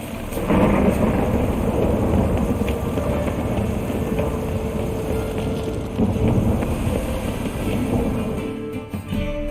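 Steady heavy rain and deep rolling thunder in The Witcher 3: Wild Hunt, a continuous dense wash that stays loud and constant throughout.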